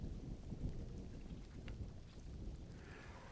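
Steady rain falls in the Mind Over Magic video game as a soft, continuous wash with a low rumbling bed, moderately loud and unbroken for a few seconds with no talking.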